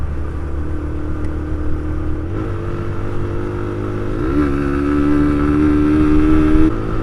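Motorcycle engine heard from the rider's position while cruising, a loud steady drone that shifts pitch with gear changes and rises slightly toward the end, with wind rush and no talking.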